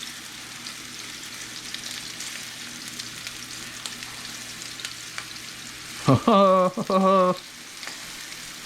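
Meatballs searing in a frying pan make a steady hiss and crackle that runs throughout, with a brief burst of louder scraping and clatter near the end and a short exclamation from a voice.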